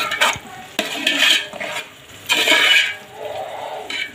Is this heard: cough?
no